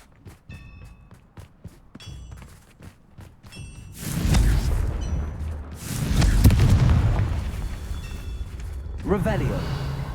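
Confringo blasting curse explosions in the Hogwarts Legacy game, with heavy rumbling booms from about four seconds onward following lighter footstep-like taps and clicks, loud and sustained with a final burst near the end.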